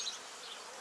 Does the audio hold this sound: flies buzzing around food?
yes